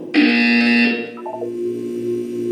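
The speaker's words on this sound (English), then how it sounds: "When you hear the buzzer, look up at the ceiling." A loud electronic buzzer in the video game Portal 2 blares for about a second, then a short descending series of tones follows and fades into a steady hum.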